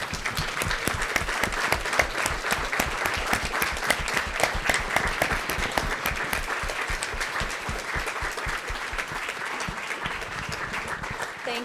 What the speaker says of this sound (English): I'd like for us to give us all a round of applause